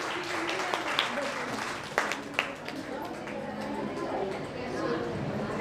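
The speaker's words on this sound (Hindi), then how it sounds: "एक बार जोरदार तालियां।" People at a women's association gathering in an Indian hall applaud in a steady patter of clapping that lasts throughout, with a few louder claps and talk in the background.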